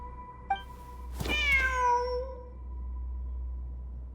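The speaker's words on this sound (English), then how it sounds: "Wait, there it is! The cat!" A cat meows in the video game Genshin Impact: a short chirp, then one drawn-out, clear meow that rises and falls, heard alone against a quiet, steady background hum.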